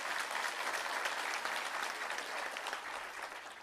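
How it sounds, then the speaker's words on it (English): An audience at a formal national launch event and address gives sustained applause for two young people, a dense, even roar of clapping heard from a distance, fairly quiet overall. "Let's give these two young people a round of applause."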